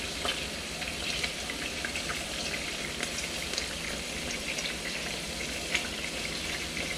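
Pork ribs frying in a pan, a steady soft sizzle and crackle with scattered small pops, faint and continuous with no voices.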